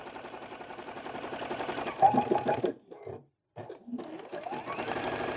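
Sewing machine stitching bias tape onto a quilt, a rapid loud mechanical chatter that stops briefly near the end before starting up again.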